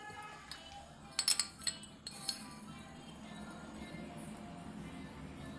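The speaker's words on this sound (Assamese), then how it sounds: "কফি 1 চামুচ দিছো।" Spoonfuls of instant coffee added into a bottle for homemade cappuccino, a burst of small metallic clinks and taps against the bottle, then quiet room tone.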